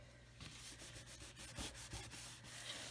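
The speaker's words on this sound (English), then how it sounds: "burnish that down" Paper being burnished down onto a handmade vintage-style St. Patrick's Day card with shamrock paper, a close, steady rubbing and scraping that continues throughout with small rhythmic strokes.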